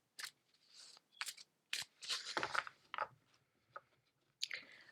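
Oracle cards being shuffled by hand, heard as a run of short, crisp riffling and snapping bursts with small gaps between them, close and fairly quiet.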